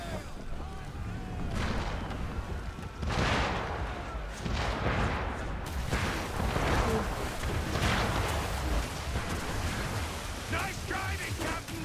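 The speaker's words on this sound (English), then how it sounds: "We need to dodge those mortars!" Repeated booming mortar blasts from enemy ships in Assassin's Creed III, heavy and rumbling over a constant wash of sea and wind noise, with several loud impacts spaced through the stretch and a voice talking over them.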